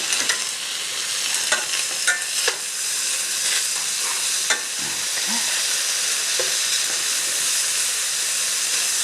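Onions and cured guanciale fry in a pan with a loud, steady hissing sizzle that fills the whole stretch, punctuated by occasional stirring clicks and scrapes.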